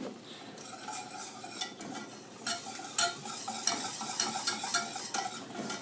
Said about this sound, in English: Just making sure that we've got the lumps stirred out.